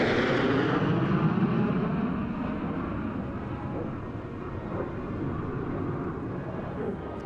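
A US Air Force Thunderbirds formation of jets roars low over a Las Vegas hospital, a loud sustained rumble that slowly eases while staying powerful and close, with no talking.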